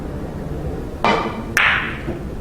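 A billiard cue strikes the cue ball on a break shot, giving a sharp click followed about half a second later by a second bright clack of balls colliding, close and clear over quiet room noise.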